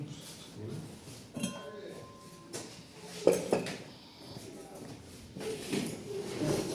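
Porcelain clinks and knocks as a pot is handled, a few sharp taps standing out amid soft rustling and a low voice, in a second-hand shop.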